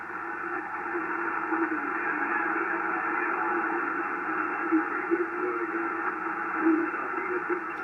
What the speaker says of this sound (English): Quite a lot of static crashes about.